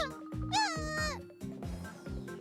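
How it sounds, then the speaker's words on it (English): A cat gives a drawn-out, wavering cry that rises and falls, followed by a few shorter, clipped sounds, close and moderately loud. "I can hear desperation in the cat's cries"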